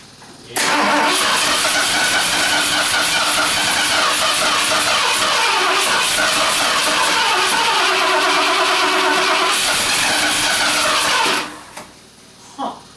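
A Ford 460 engine cranks, fires and runs loudly up close for about eleven seconds with a rough, steady roar, then cuts off abruptly, leaving quiet with faint sputters.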